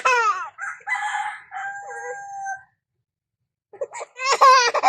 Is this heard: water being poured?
no